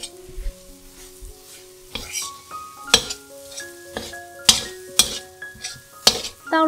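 Filling of brown sugar, salt and pepper stir-fried in a pan for Nyonya glutinous rice rolls, with steady sizzling broken by repeated scraping stirs and clinks of a utensil against the pan.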